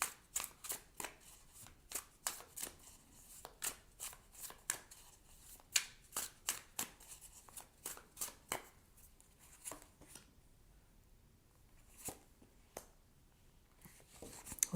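A deck of tarot cards is shuffled by hand, producing quick, crisp riffling and flicking bursts in an irregular rhythm, close by and soft, with no voices.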